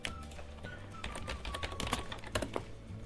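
Keys clatter on a computer keyboard in quick, uneven bursts, close and fairly quiet, with a faint tone humming underneath.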